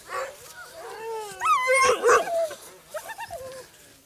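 Dogs whimper, yip and give short barks during a mountain trip on Saltfjellet, the high whines rising and falling in quick bursts, fairly close, with brief low voices in between.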